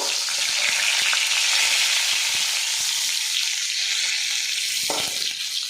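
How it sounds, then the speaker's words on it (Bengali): Pointed gourd (potol) frying in a pan, a continuous bright sizzle close by with occasional spatula scrapes and turns as the pieces are stirred. "একটু উল্টে পাল্টে নাড়াচাড়া করে দেব"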